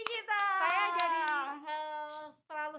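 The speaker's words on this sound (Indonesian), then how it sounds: "Wah, tepuk tangan untuk PD kita." Four or five quick hand claps in a radio studio, spaced about a third of a second apart, partly buried under a long, drawn-out spoken voice that carries on after the clapping stops.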